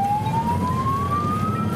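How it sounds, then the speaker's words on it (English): Police car siren on an Australian-built Ford Falcon patrol car, a single steady tone gliding slowly upward, loud and close over a low engine rumble. "Can I put the siren on?"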